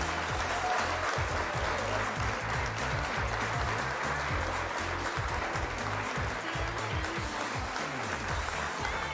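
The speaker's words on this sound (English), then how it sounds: "Yo, clap it up, bro." Sustained applause from a crowd, dense clapping that holds loud and steady the whole way through with no talk over it.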